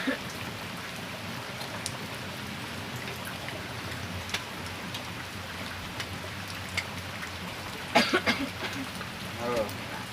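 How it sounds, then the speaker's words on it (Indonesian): Steady rain falls in a continuous hiss on surfaces outdoors, with a few louder close knocks and rattles near the end. "Ya syutingnya ke kebulusan hujan."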